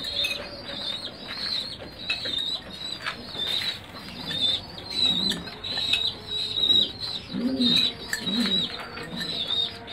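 Breeding pigeons coo softly in repeated low phrases while wings flap and flutter nearby, with squabs present, occasional rustling and chirps throughout.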